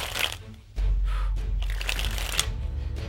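Thin playing cards are shuffled and sprung, a dense crisp fluttering riffle that starts softly and swells into a steady, close rush of card edges lasting a few seconds, with no talking.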